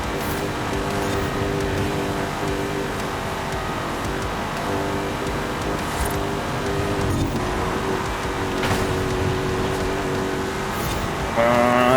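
A racing video game car engine, a front-wheel-drive Ford F-150 Lightning, drones loudly and steadily throughout with a rising rev near the end, with no talking.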